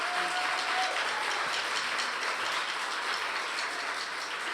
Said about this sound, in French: D'abord, nous devons applaudir tous et toutes les merveilleux musiciens